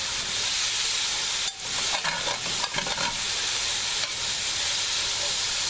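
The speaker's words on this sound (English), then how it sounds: "I want those onions brown, but not like, I want them brown, but not caramelized." Onions frying in a pan, cooked until brown but not caramelized for liver and onions, give a steady close sizzle and hiss with a few scraping stirs partway through and no talking.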